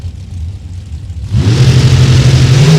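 Drag racing cars launch side by side at an Indianapolis strip, a quiet rumble suddenly erupting into a loud, sustained engine roar as they accelerate hard down the track.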